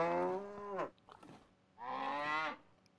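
A cow in the video game Autobahn Police Simulator 3 gives two long, loud moos separated by a short pause, close by and with no talk over them.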